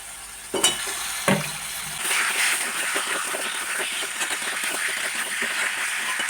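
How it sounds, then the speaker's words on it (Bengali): Potatoes tipped into a sizzling spice paste in a pan while making fish curry, two sharp clatters followed by a louder, steady frying hiss with stirring scrapes, and no one speaking. "এর মধ্যে এবার আমি আলুটা দিয়ে দেবো।"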